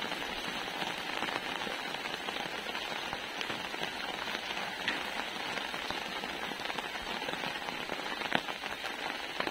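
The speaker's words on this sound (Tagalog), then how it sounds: "umuulan pa rin, so wala tayong magagawa, lulusob tayo sa ulan" Steady rain pattering on outdoor surfaces, faint and even, with scattered sharper drops and crackles throughout and no voices.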